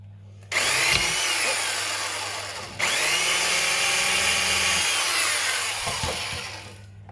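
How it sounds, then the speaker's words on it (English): A power drill whines through tin-can metal in two sustained bursts, the second starting right after a brief pause, close and fairly loud. "I'm going to use a drill, so I'll show you what I do"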